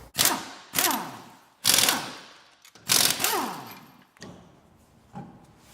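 An impact wrench taking the wheels off a car: five loud, close bursts of rattling whir, each cutting in sharply and then winding down, with short pauses between them.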